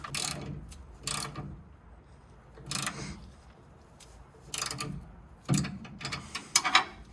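A tie rod sleeve on a 1971 Chevelle is tightened by hand with a ratchet, giving short bursts of close, rapid clicking separated by pauses.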